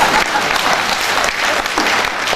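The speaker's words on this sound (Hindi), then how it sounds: "हाँ ताली इतना छोटा मत मार" An audience claps throughout a spiritual discourse gathering, steady dense applause from many hands filling the hall at close range with no voices over it.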